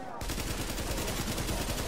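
Gunfire from a sniper rifle in Tom Clancy's The Division, heard as a dense, loud burst of sharp cracks that continues steadily for about two seconds after a short quiet start.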